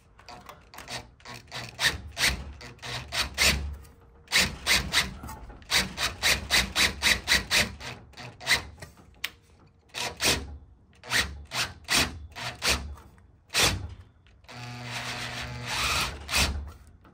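Schwartmanns Beady crimping wheels working 0.6 mm sheet metal make bursts of rapid scraping, rasping ridges in quick rhythmic runs, pausing between passes, with a denser grinding stretch near the end. Close and fairly loud.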